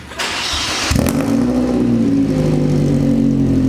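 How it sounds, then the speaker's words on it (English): A Chevrolet Cobalt SS with an LSJ engine and Dynomax Ultra Flow muffler cranks and fires up, then settles into a loud, deep, throaty idle with a steady rumbling drone. "That muffler is way louder than I thought it was gonna be"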